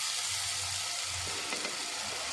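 Ginger garlic paste sizzles and fries with browned onions in a pan for chicken gravy, a steady close hiss with light stirring scrapes throughout.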